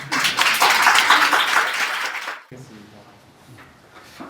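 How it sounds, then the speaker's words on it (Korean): Loud applause from a lecture audience welcoming a professor before a classics talk fills the first two and a half seconds, then cuts off abruptly, leaving faint room noise and low voices. "우리 김채우 교수님 박수로 한번 환영하겠습니다"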